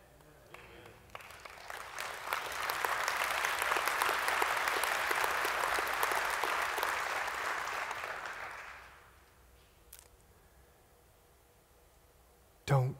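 A large audience bursts into sustained applause that swells, holds for several seconds, then fades out, followed by near quiet and a brief thump.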